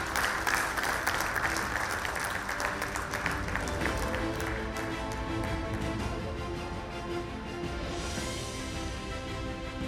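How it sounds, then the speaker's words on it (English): Audience applause at a manufacturing excellence award ceremony, a sustained round of clapping from a seated crowd that thins slightly toward the end. "Round of applause, please."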